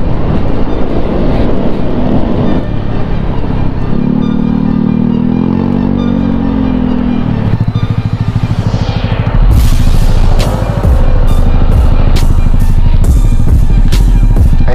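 Scooter motorcycles race in the Scooter King Endurance Challenge 2024, their loud engines whining and droning close by, one note rising and holding before the pack sweeps past with rattling clatter and wind buffeting.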